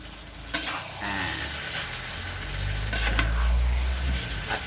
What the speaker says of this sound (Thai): ผัดจนให้มันแห้งเข้ากันนะครับ